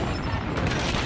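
Dense rapid gunfire from a video game fills the whole moment, a loud continuous burst of shots with no gaps and no talk.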